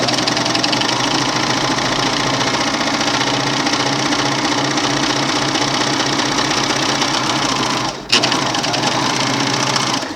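A Merrylock Cover Pro Auto III coverstitch sewing machine stitches steadily: a loud, continuous mechanical whir with rapid rhythmic chatter, briefly pausing near the end before running again.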